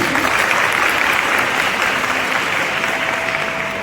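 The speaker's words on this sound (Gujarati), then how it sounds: "ખૂબ જ જોરદાર તાળી ભાઈશ્રી" Loud, sustained applause from an audience at a farewell ceremony in a girls' high school, a dense steady wash of clapping filling the room from start to finish.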